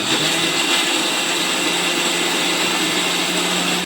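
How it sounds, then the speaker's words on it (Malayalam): A mixer grinder whirs loudly and continuously as it grinds coconut paste with water, cumin and garlic, a steady motor drone with no pauses. "അപ്പൊ ഒരു ഇത്തിരി വെള്ളം ഒഴിച്ച് അരച്ചെടുക്കാം."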